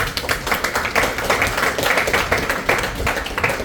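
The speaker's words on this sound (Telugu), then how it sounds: "అయితే క్లాప్స్ కొట్టచ్చు కదా" An audience at an agents' training session clapping together, steady dense applause of many hands at close-to-mid distance, continuing evenly with no talk.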